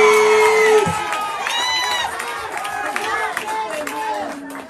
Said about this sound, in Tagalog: Yung sigaw ng tao, narinig niyo